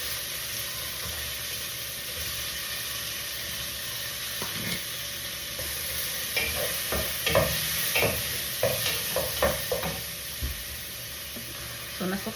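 Tomatoes sautéing in a pan for a home-cooked Filipino meal, a continuous hissing sizzle with a run of scraping stirring strokes in the second half, close and fairly quiet.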